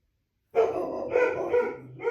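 A pet dog indoors barks and yips several times in quick succession, fairly close and alone, with a whimpering edge toward the end.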